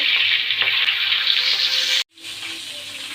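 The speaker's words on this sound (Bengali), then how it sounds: "এখন আমি মাছের মাথা ভেজে নেব" Rohu fish heads fry in hot mustard oil in a wok with a loud, steady hiss and crackle, briefly cutting out before the sizzling resumes more quietly.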